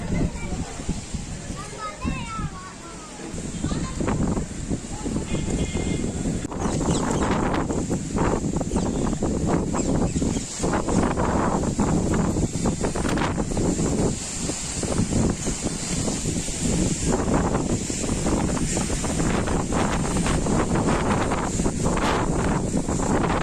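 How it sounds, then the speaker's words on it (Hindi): Strong gusty wind roars across a pond in Lakhtar, Gujarat, during a storm, a steady loud rushing with buffeting on the microphone and waves sloshing, while a voice talks over it throughout. "लखतर के तालाब में भी तेज हवाओं से पानी की लहरें जोर जोर से बहती हुई देखी गईं।"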